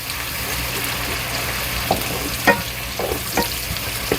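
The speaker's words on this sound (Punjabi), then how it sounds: "ਪਹਿਲਾਂ ਪਿਆਜ਼ ਭੁੰਨਾਂਗੇ" Onions sizzle and fry steadily in a pan for pav bhaji, with a constant hiss and a few sharp scraping stirs of a spoon against the metal. No one speaks.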